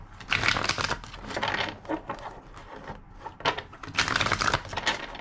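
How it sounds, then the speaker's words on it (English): Rapid papery riffling and flicking of tarot cards in several bursts, close and crisp, with brief pauses between shuffles. "Two more shuffles."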